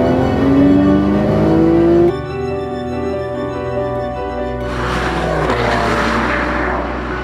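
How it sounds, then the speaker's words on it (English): A 2012 Porsche 911 Carrera drives past, its engine roaring loud and close with a rising rev that cuts sharply, then a broad rushing whoosh as the car sweeps by. "That car is the 2012 Porsche 911."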